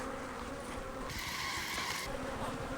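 Honey bees in a large, honey-filled hive box opened for splitting give a steady, dense buzz close by, with the hum swelling briefly midway; no one speaks.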